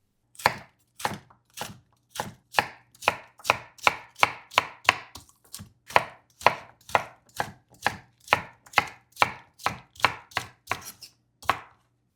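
A knife cuts the core of a vegetable into thin strips for shabu shabu, about two dozen crisp, evenly spaced chops knocking on a cutting board, close and clear with no talking.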